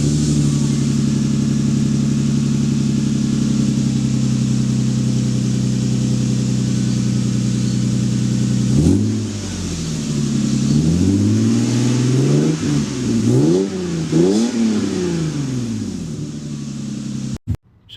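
Lexus exhaust with the muffler removed and resonator kept, idling steadily and then revved several times in quick rising and falling bursts, loud and close with no talk.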